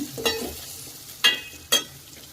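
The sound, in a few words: curry leaves and sliced onion frying in a pan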